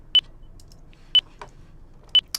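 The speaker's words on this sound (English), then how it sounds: "so if that's playing, you're going to have a beep" A sync check tone plays three short, clean, evenly spaced beeps about one second apart, clear against a quiet background.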